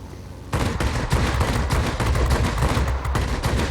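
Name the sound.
Ki-94-II aircraft cannon fire in video game World of Warplanes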